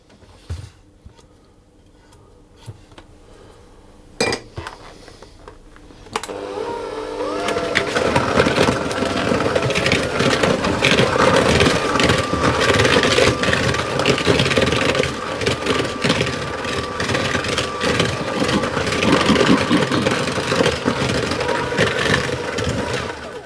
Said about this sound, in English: I'm going to use my hand mixer.